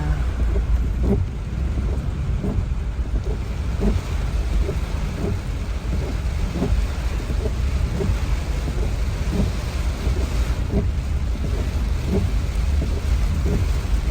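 Heavy typhoon rain and gusting wind lash down during Typhoon Kristine in 2024, a dense, steady roar with repeated low thumps and rumbles, loud and close throughout with no talking.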